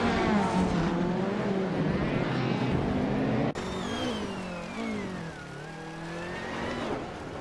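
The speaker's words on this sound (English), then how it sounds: "Scott Dixon is driving a Renault 5 Turbo, starting from the 12th position." A Renault 5 Turbo race car engine in a racing video game, with a loud, continuous engine note that climbs and dips as it revs and shifts gears, a brief cut midway, and no talking.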